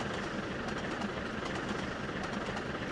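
A train in a train simulator game rumbles along with a constant low roar and faint rhythmic clatter, close and steady throughout, with no speech.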